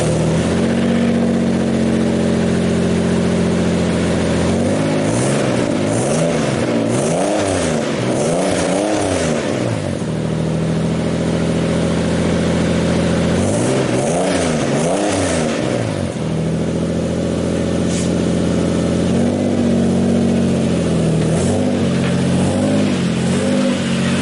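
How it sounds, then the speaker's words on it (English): A Toyota 2JZ-powered drift truck idles with a deep, throaty exhaust rumble, then revs up in several rising and falling bursts before settling back to idle. "let's hear what that exhaust sounds like."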